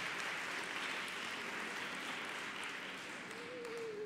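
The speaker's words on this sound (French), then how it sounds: "Donc on a le droit d'applaudir encore." Faint, distant applause from the audience at a French-language lecture on animals, environment and One Health, a soft, steady wash of clapping with no voices.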